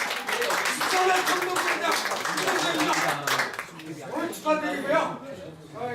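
Clapping from an audience at an alumni association's annual general meeting rises in a brief burst and then fades, with voices talking over and after it.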